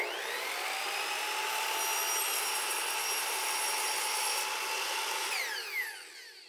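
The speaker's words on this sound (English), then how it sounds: "We'll go back to the miter saw and I'm gonna measure 6 3/4" A miter saw cuts a wooden piece for fluted furniture trim, a loud, steady high-pitched whine running for several seconds and then spinning down at the end, with no talking.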